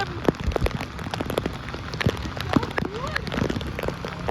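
Monsoon rain falls steadily in Panjim, Goa, a close, dense patter of drops hitting surfaces with scattered louder splashes, continuous for a few seconds.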